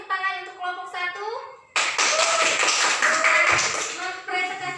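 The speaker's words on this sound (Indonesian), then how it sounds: "beri tepuk tangan untuk kelompok 1" A university microteaching class acting as high school students breaks into a burst of group clapping that runs close and steady for about three seconds, after a short stretch of a voice speaking.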